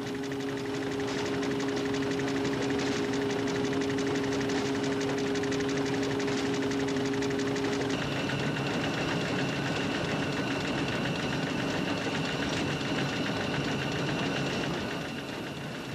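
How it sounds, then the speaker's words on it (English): A 1918 steam traction engine with gear-driven steering drives a 1948 Ross Junior baler at a steam rally, a continuous mechanical clatter with steady rhythmic knocking and a faint hum, alone without talk. "on this occasion was seen driving a 1948 Ross Junior baler"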